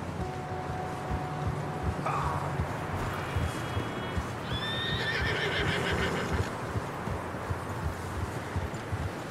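A horse in Red Dead Redemption 2 neighs and whinnies over steady clip-clop of hooves, with shrill calls rising mid-clip against a continuous outdoor ambience and faint low voices.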